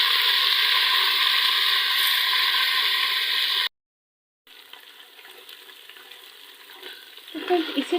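Steady loud sizzling of garlic and green chilli paste frying in a hot pan, a brief silent gap, then quieter frying with a few stirring scrapes near the end.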